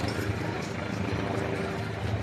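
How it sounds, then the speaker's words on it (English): A helicopter hovers directly overhead in New York City near mile 24 of the marathon, a loud, steady rotor drone filling the scene with crowd and street noise beneath it. "there's the helicopter literally right above my head."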